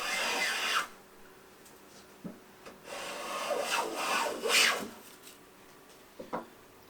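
A Stanley No. 5 hand plane flattens a wooden board, giving several rough, hissing shaving strokes of varied length separated by quiet gaps and light knocks, close and moderately loud.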